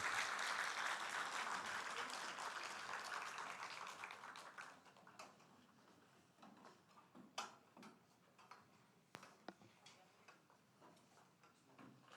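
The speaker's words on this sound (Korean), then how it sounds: "우리 하나님께 영광과 그리고 우리 어르신들 격려의 박수 하십시다." A church congregation at a Korean worship service applauds in a dense burst of clapping that fades out after a few seconds into scattered single claps and faint room noise.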